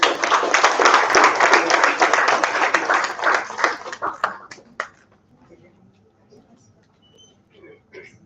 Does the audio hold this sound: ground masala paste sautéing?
no